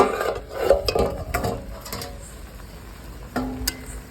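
A lid lifted off a pot of simmering cabbage curry, with a few metallic clanks and clatter up close, followed by quieter scraping and a brief knock near the end.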